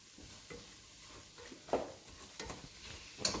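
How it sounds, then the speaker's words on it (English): Onion frying in a pot for Ethiopian doro wat is stirred, giving a soft background sizzle broken by several scraping stirs and light clinks of the utensil against the pot, fairly quiet and close, with no talk. "Keep stirring this onion here."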